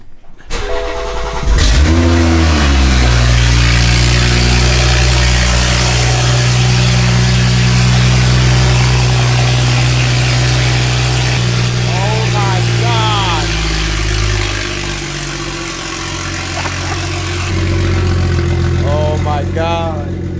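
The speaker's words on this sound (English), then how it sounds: "that cold start is atrocious" A BMW 340i with a big turbo and homemade exhaust dump cold-starts in a garage, cranking then barking into a loud, rough, droning high idle that dips and surges, with turbo whistle chirps and someone talking over it.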